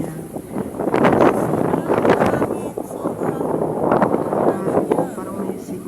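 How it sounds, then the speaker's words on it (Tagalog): Strong gusty wind buffets the microphone at a lake park in Saudi Arabia, rumbling in loud surging waves over several seconds while voices talk faintly underneath. "Pero hangin yan na napakalakas"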